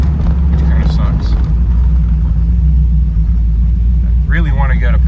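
An 81 NASCAR with a 416 stroker LS3 engine rumbles loudly and steadily from inside while driving, a deep continuous drone under a voice talking.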